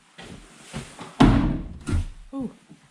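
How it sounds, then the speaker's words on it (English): An old door in an abandoned house in northern Sweden is opened with a loud thunk and rattle, followed by a second knock and a short creaking squeal, with people talking nearby. "This door doesn't go anywhere."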